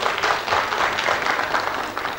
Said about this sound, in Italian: Pochi ma sinceri questi applausi.